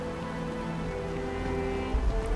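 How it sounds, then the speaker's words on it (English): In the video game Starfield, a rain weather effect gives a soft, steady patter of falling rain. A low rumble swells near the end, and no one speaks. "It's raining."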